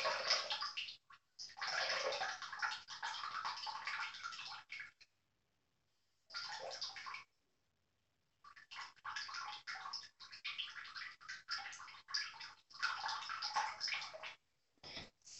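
Water running and splashing in bursts, starting and stopping several times with short silent gaps between, like a tap or tub filling on and off, fairly soft and heard without talk.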